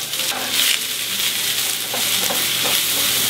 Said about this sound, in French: Épinards dans la casserole.